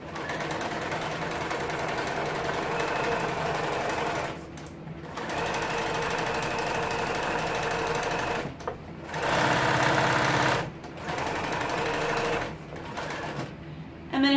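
A sewing machine stitches a window seat cushion cover in steady, close motorized runs, pausing briefly several times before starting again; no one speaks.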